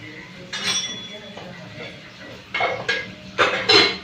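Spatula scraping and clinking in a pan as red chilli powder, turmeric and salt are mixed into roasted tomato, a few bursts of metallic scraping with quiet gaps between them, close up.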